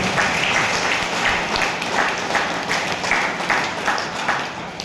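A crowd at an RCM business gathering in Kishanganj, Bihar gives sustained, loud applause, a thick wash of many hands clapping evenly throughout with no break.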